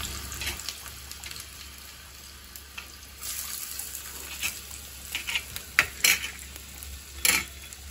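Chopped onions dropped into hot oil in a pan for sambar give a soft, steady hiss, broken by clinks and scraping from a utensil stirring against the pan, close by with no talking.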